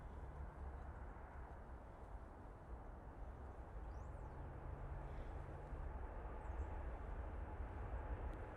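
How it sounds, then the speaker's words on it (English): A Swiss Airbus A320neo on short final approach at Manchester Airport gives a steady, broad jet roar that holds at a constant level throughout, with no talk over it. "So this is the Swiss A320neo now on short final."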